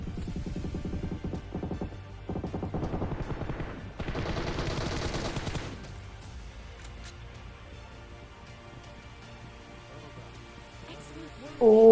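Rapid bursts of automatic gunfire from the mobile battle royale game Battlegrounds Mobile India, loud and dense for several seconds, then fading to quieter game ambience.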